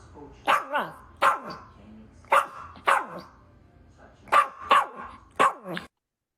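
A small dog barks about ten times in sharp, loud, uneven bursts, played as a sound effect through OBS, then the sound cuts off abruptly.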